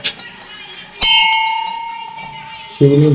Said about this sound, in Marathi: घंटा वाजू का मी पण?